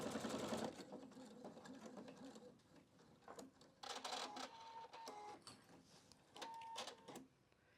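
A PFAFF QE 720 sewing machine stitches through a thick padded quilted clutch, its rapid needle clatter running in several bursts with short pauses between, close and fairly loud with no talking.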